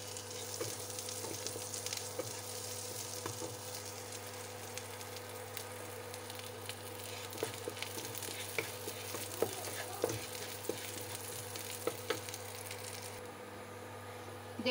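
Chopped garlic and dried chillies frying in oil in a wok, a steady low sizzle throughout with scattered stirring clicks and scrapes, close and fairly quiet.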